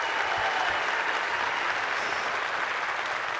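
Steady, dense audience applause fills a large hall at a United Conservative Party annual general meeting keynote, a continuous wash of many hands clapping at even loudness throughout.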